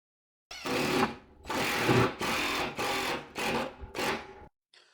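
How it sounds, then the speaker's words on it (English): A power drill boring pilot holes into wooden wall studs to anchor a 3D printer, heard as six separate bursts of grinding, whirring drilling of about half a second each with short pauses between them, close and fairly loud. "Now we'll drill in some pilot holes, countersink a few, and get them mounted."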